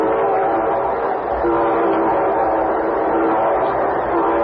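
A loud train rumbles close by as its horn sounds in a sustained, chord-like blare, steady and continuous, with no talking.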